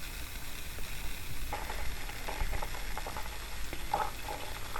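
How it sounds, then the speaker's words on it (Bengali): Butter melting slowly in a pan for homemade ghee gives a soft, steady sizzle with scattered small crackles and pops throughout. "সময় দিয়ে বাটারটাকে এভাবে আস্তে আস্তে গলিয়ে নিতে হবে"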